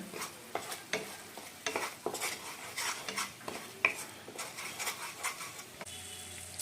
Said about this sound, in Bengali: বন্ধুরা এবার মশলাগুলোকে ভালো করে কষিয়ে নেব যতক্ষণ না মশলাগুলো থেকে তেল ছেড়ে দিচ্ছে।